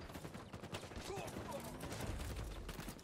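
Burst rifle gunfire in Halo Infinite multiplayer crackles in rapid clustered shots amid game effects, with a player talking over the action.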